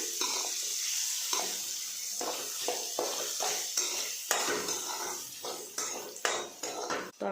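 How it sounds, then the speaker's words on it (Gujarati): Chili powder, coriander-cumin powder and ginger-garlic chili paste are stirred together in hot oil. A spoon scrapes and clinks repeatedly against a metal pan over a soft, steady sizzle, close up and with no voices. "બધું જ બરાબર મિક્સ કરી લઈશું"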